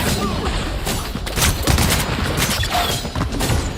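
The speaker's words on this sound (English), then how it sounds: "God, they're shooting at me from here, though." Dense, loud gunfire rattles without a break during a video game firefight, with rapid bursts and scattered shots overlapping into a steady barrage.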